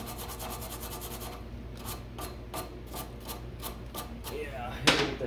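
A Case 311B tractor carburetor's surfaces being scrubbed of gunk, a series of quiet, evenly spaced scraping and rubbing strokes close by, ending with one sharper scuff.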